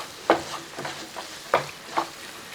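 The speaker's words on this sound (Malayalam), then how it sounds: "ഒന്ന് ഇളക്കി" Spoon stirring onion-tomato masala frying in oil in a pan for ladies finger curry, with four distinct scraping strokes over a low steady sizzle, no talk.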